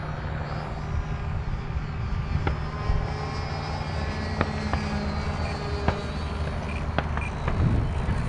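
An E-flite Draco RC plane does a touch and go on a runway, its propeller motor humming at a moderate distance, with a few sharp clicks and a rising rush near the end.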